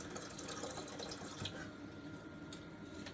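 Water pours steadily from a tap into a Berkey water filter being filled about halfway, a continuous close hiss and splash with no talk.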